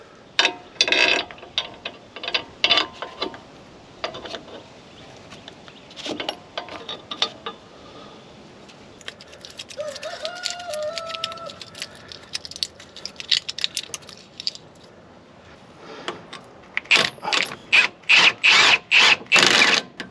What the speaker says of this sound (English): Now we will reinstall our sway bar end link.